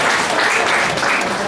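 Audience clapping at a school cultural event for a primary-school student, loud, close and sustained for a moment without a break.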